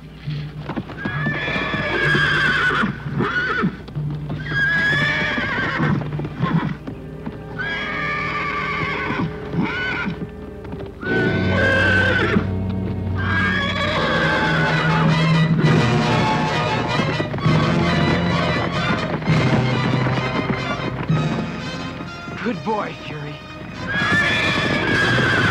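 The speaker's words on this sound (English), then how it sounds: "Help me get those horses out of here." Several horses being driven away whinny and neigh loudly again and again, while hooves clip-clop steadily underneath throughout.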